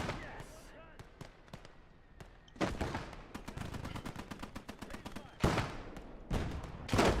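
Heavy booming cannon shots in a video game crack out in bursts, some rapid and clustered, others single and loud, amid game noise and occasional talk.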